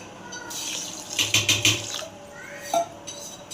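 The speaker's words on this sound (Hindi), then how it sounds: "1 कप हमने इसमें पानी डाला है।" A cup of water is poured from a vessel onto 1.25 kilograms of sugar in a wide pan to start a syrup, giving a splashy pour with a few clinking pulses, then faint handling sounds.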